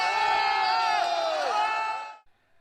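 A crowd erupts in loud whoops and cheers as a young man dances on the roof of a police patrol car during a New Year's confrontation in Henan; the shouting is dense and close, then cuts off abruptly near the end.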